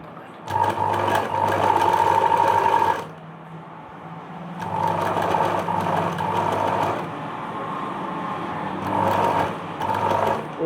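An electric sewing machine stitching lining fabric for an Anarkali chudithar, running in three bursts of steady whirring with quiet pauses between them, close and moderately loud.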